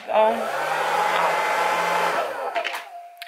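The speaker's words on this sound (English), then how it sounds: "now I will take my blow dryer and I will go ahead and plug it in" A hair dryer with a diffuser whirs loudly and steadily for about two seconds, then winds down with a few clicks as it is switched off.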